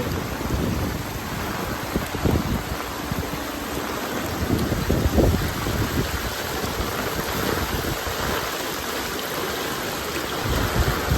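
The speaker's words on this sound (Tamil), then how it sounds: "பயங்கரமாக ஓவர்ஃப்ளோ ஆகிட்டு வருது இந்த டேம்லேருந்து" Heavy water pours over a dam during cyclone rain, a steady, dense roar of rushing water and rainfall running unbroken and loud throughout.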